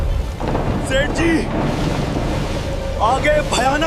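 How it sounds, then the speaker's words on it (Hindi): A fierce storm with thunder and rain batters a sailing boat at sea, a dense roar of wind, rain and water lasting throughout while frantic voices cry out over it. "आगे भयानक तूफान है, अब कोई नहीं बचेगा।"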